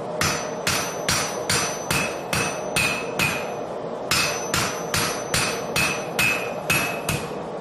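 A blacksmith hammers hot iron on an anvil while forging the prong of a cast-iron pot fork, a steady run of loud, close metallic blows in two bursts of about seven strikes each, with no talk.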